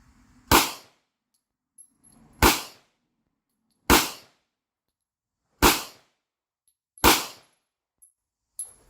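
Five loud, sharp gunshots from a short-barrel 1911 pistol fire at roughly even intervals, each with a quick decaying report, and faint handling clicks fall between them.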